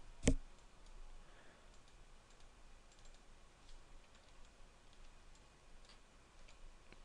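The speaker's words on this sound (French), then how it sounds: "je clique sur Connect" A single crisp mouse click lands near the start while working in 3D modelling software, followed by several seconds of faint, quiet room noise with no talking.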